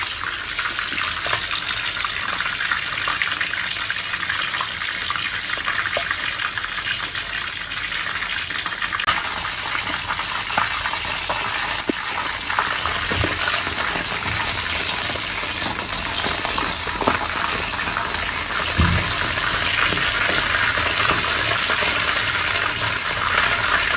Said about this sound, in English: I'll now turn the fish over to fry on the other side